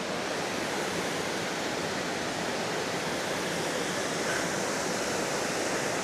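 Steady, dense roar of Serpentine Falls, a waterfall pouring into a deep, clear swimming hole, loud and unbroken with no voices over it.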